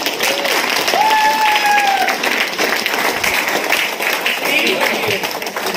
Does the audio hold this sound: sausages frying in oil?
no